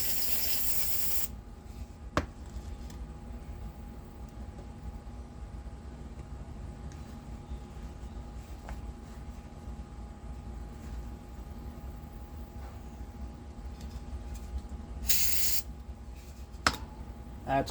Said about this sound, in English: Let's see, spray this off.